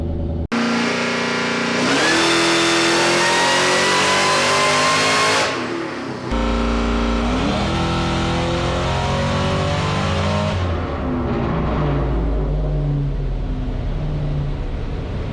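A Ford Mustang Terminator with Holley EFI revs hard on a dyno during a tuning run. The engine is loud and close, climbing steadily in pitch, dipping briefly, then pulling again before settling to a lower drone.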